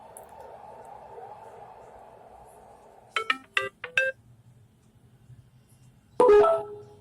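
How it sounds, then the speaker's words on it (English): A Bluetooth soundbar gives a short pairing chime, a quick burst of bright tones near the middle followed later by a louder electronic jingle, after a quiet stretch of faint background hum. "as you heard the notification"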